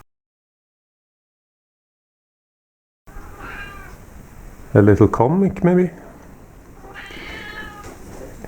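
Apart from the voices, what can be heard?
cat meowing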